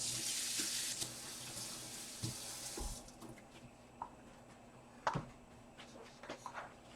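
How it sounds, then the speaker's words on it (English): Hands rinsed under a running tap at a sink, wearing gloves: a loud hiss of water for about three seconds, then the flow stops and a few soft splashes and drips follow. "let me rinse my hands off"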